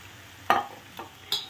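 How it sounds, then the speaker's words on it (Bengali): Green peas and potato pieces are tossed into a wok while a spice base is being sautéed, producing a soft background sizzle broken by three sharp stirring clanks, one loud and two lighter. "এটা কষাতে কষাতে এর মধ্যে দিয়ে দিচ্ছি দেখো একটু কড়াইশুঁটি আর একটু আলু।"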